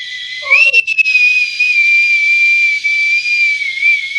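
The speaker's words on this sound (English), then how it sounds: "I got my Navy bosun's whistle." A Navy bosun's whistle is blown loud and close, one long steady shrill pitch held for several seconds after a quick rising start, with a brief voice at the outset.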